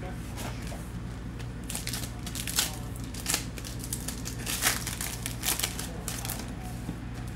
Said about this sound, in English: Strong plastic around the blaster boxes.